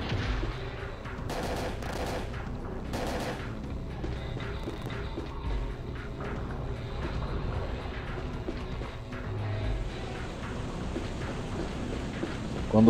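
Gunfire in the PlayStation game Parasite Eve 2 during a boss fight, several sharp bursts early and a run of fainter shots afterward over a low rumbling background, with no one talking.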